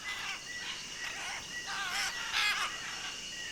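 Macaws screech and call in a rainforest, harsh raucous squawks overlapping in bursts, loud and near, with several birds calling in turn.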